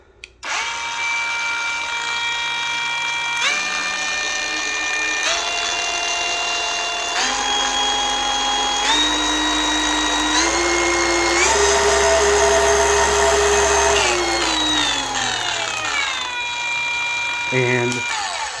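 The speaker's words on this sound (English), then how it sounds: "this is going to be a good polisher for enhancements and spot corrections" A cordless SPTA 15mm dual-action polisher runs continuously, its motor whine stepping up through several speed settings and then winding back down, close and fairly loud.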